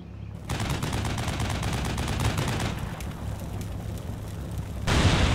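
A TOW missile shot and gunfire in the Cold War video game Combat Mission, heard as a loud, dense roar of firing that continues for several seconds before a brief cut to a louder burst.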